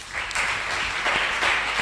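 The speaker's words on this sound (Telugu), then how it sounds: "ఒక్కసారి ఓబద్యాకు చప్పట్లు కొడదామా?" A church audience applauds for Obadiah during a short sermon, a dense, steady wash of clapping that fills the whole brief moment at close range.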